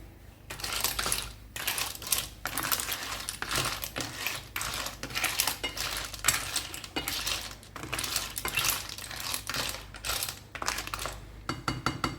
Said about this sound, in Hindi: तो अब इसे ना अच्छे से मिक्स करते हैं।